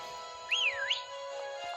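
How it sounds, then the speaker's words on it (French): A single short, wavering whistle from the video game Pokémon Sword rises and falls over a steady electronic hum and soft background music. "Voilà comment siffler."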